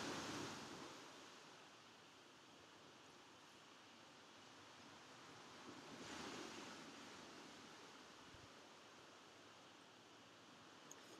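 Ocean waves break and wash in a steady, soft roar while a light breeze hisses through the trees, with a gentle swell of surf partway through.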